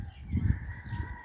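Roosters crowing outdoors, a few drawn-out low crows swelling and fading across the short stretch with no talk over them.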